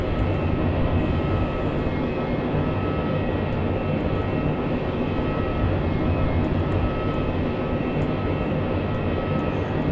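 Avro Vulcan B2 jet engines roaring loudly and steadily in Microsoft Flight Simulator, a dense, continuous rumble with a whining tonal layer that holds constant throughout, with no talk over it.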